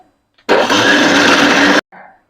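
A loud motorized wet grinder whirs steadily for over a second while grinding rice and lentil batter, then cuts off abruptly, leaving a brief faint rumble after.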